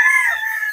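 A short, loud rooster crow at a large chicken farm in Pangasinan, Philippines, a single sustained call that tapers off quickly.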